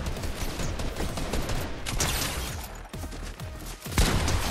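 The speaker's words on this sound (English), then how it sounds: "Grenade launcher, go!" Grenade launcher firing in a fast-paced online shooter, a dense barrage of loud booming blasts and gunfire overlapping continuously, with sharp thumps standing out near the end.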